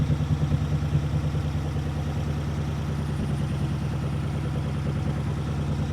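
A flathead engine fitted with a four-barrel carburetor and a resistor idles smoothly and steadily for the whole stretch, a close, even low rumble with no voices over it.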